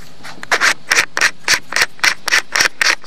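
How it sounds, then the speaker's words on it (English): An engraving graver has its face sharpened on a stone in quick back-and-forth rubbing strokes, about ten regular scrapes in a brisk, close rhythm with no talking. "so all I've got to do to make the heel shorter is just sharpen the face."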